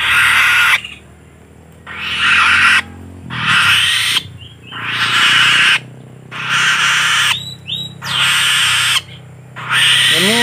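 A black-winged kite (alap-alap tikus) calls loudly at close range in a steady series of shrill, raspy screeches, each about a second long and separated by short pauses.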